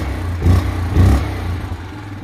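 A quad ATV engine idles close by with two quick revs, a steady low mechanical rumble rising briefly twice before settling back.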